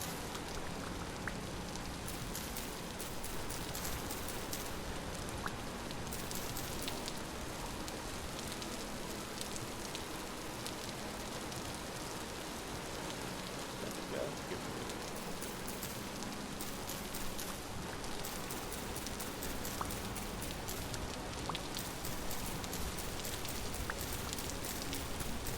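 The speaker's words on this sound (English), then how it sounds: "As evidenced by the rain, it does rain here, but it won't rain every day." Steady rain falls in the video game Vintage Story, a dense continuous patter of drops on surfaces with an even hiss throughout and no voices.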